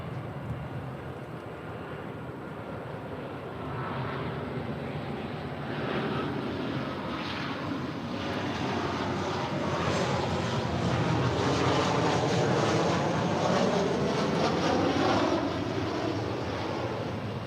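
A Boeing 737-800 airliner on the runway at LAX, its jet engines giving a steady broadband roar that swells gradually from moderate to louder as the aircraft powers up, heard alone without talk.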